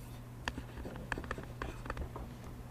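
A pencil scratches across paper in short, irregular strokes and taps, quiet and close, with a low steady hum of room noise underneath.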